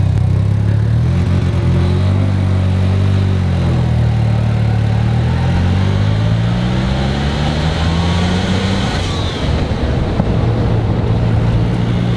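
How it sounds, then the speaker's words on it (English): A Mazda one-rotor engine running loud and steady with rising and falling revs, ending in a sharp hiss from its loud blow-off valve, close and alone without voices. "we changed the blowout valve too, and this one's like way louder than the super sequential"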